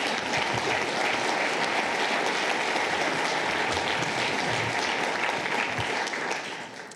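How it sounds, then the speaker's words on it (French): A crowd at a forest summit gathering claps steadily in a full, even ovation that carries on for several seconds before tapering off at the end, with no talking. "Alors, applaudissements,"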